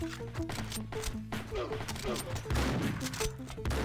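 Rapid shotgun blasts and gunfire crackle through a co-op session of the top-down shooter Geneshift, several quick shots in a row while a player talks over them.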